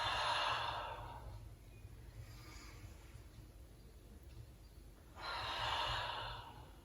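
Deep breaths drawn in and pushed out during a Pilates exercise class, two long audible breaths near the start and end with a quieter one between, close and soft over low room hum.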